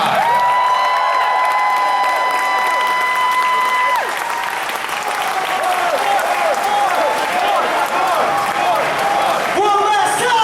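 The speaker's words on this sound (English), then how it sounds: "give a big round of applause to the cast of Super Samurai" A convention panel audience gives the Super Samurai cast a big round of applause, dense sustained clapping with cheering and shouts, close and loud throughout, while a voice talks over it and an electronic tone sounds at the start.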